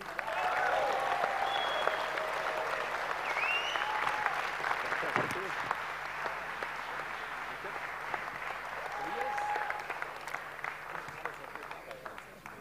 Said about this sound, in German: er kriegt dafür auch den tobenden Applaus. Tobias Hackspiel.